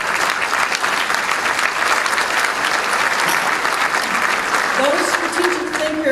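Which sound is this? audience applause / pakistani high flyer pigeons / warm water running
audience applause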